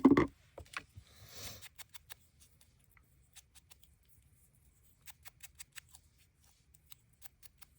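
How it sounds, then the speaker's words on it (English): Scissors snipping through fabric while cutting pockets for sewing, a sparse series of short crisp clicks in close succession, quiet and near, with a brief rustle of material near the start. "This one I want to cut."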